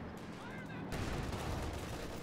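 Gunfire aimed at a decrewed anti-tank gun during a Company of Heroes 2 match: a dense, continuous crackle of shots and impacts that grows louder partway through and carries steadily to the end, with game noise underneath.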